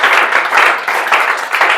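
An audience claps loudly and continuously to welcome a student being honoured at a results celebration, the steady dense clapping filling the short moment.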